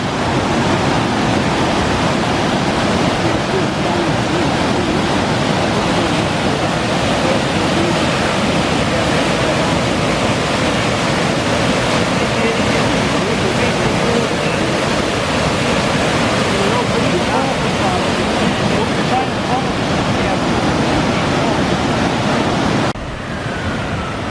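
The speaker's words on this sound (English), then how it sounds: "here we are with the river Leven. I don't think it'll be in much more of a full flood than this." The River Leven in full flood rushes over a weir near Haverthwaite, a loud, steady roar of churning whitewater that fills the scene close up and holds unbroken before dropping slightly at the very end.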